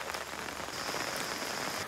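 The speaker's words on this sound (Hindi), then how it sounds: "बारिश नहीं रुकेगी आज के दिन" Steady rain falls outdoors in a continuous dense patter on surfaces, loud and close, with no voices over it.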